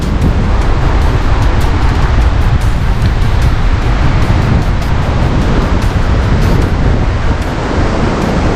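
Strong wind gusting across a southern-sea beach, a loud, continuous roaring rumble buffeting the microphone, with heavy surf blended into the blustery wash and no voices.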